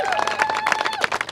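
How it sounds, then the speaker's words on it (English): Audience at an outdoor affordable housing rally in Oakland applauding, dense clapping with a few sharper claps, close and brief, under a speaker's voice. "Let's give Daryl Steinberg a really big applause"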